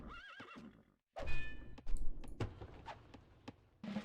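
A horse archer's horse in the Rise of Nations strategy game gives a loud, wavering whinny, then hooves clip-clop in sharp, irregular steps alongside clicks and thuds of game action.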